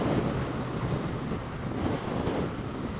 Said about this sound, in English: I'm accelerating, the wind is picking up but not upsetting.